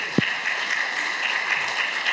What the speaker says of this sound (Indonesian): Tepuk tangan dulu dong buat Bu Indri